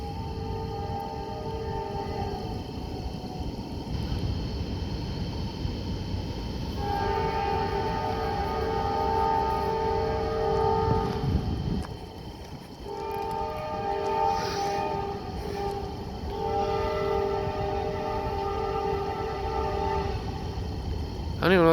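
A badly fouled Norfolk Southern locomotive horn blowing in several long, rough, discordant blasts with short gaps, loud and close over the rumble of a passing train.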